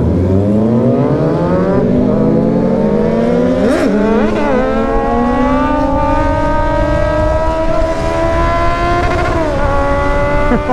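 A Kawasaki Ninja superbike engine revs hard and climbs in pitch as it accelerates into a wheelie, loud and close, with brief throttle blips partway through.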